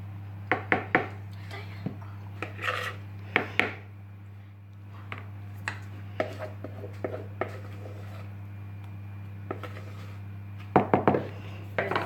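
A fork mixing whipped cream gently into cake batter, with soft taps and scrapes against a bowl coming in small irregular clusters over a steady low hum, fairly quiet and close.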